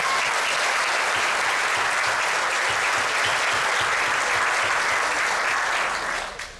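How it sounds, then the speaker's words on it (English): A roomful of guests at a chamber of commerce awards celebration gives a sustained round of applause, loud and dense throughout, then trails off quickly in the last half second. "I'd like for us all in here to give her a round of applause."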